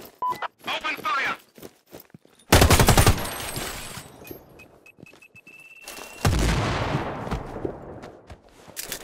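Enemy gunfire in the video game Sniper: Ghost Warrior 3: sharp bursts of shots, with a heavy, loud volley in the middle and another near the end, set among scattered single cracks and spoken voices.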